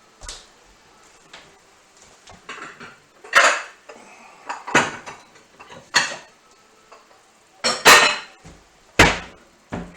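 Dishes clatter as a bowl is fetched in a home kitchen, with a series of sharp, close clanks and knocks of crockery and metal coming in irregular bursts over several seconds, no talking.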